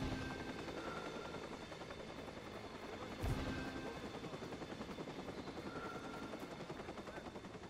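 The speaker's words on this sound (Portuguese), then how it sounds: "Helicóptero parece estar voltando." A helicopter's steady rotor drone in the video game Watch Dogs fills the scene, continuous and moderately loud, with a brief sharp impact partway through.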